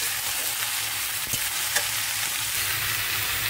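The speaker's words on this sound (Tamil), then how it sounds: "இதோட நம்ம காயை ஃபுல்லாகவுமே சேர்த்துக்கலாம். காயெல்லாம் சேர்த்து நல்லா கலந்து விடுங்க." Mixed vegetables for sambar rice are stirred as they fry in a pan, a continuous close sizzle with occasional scraping clicks from the utensil, no voices.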